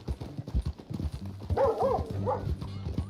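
Horse hooves clip-clop in the Red Dead Redemption 2 video game, a steady run of close hoof beats, with a brief whinny-like call in the middle and game music or ambience underneath.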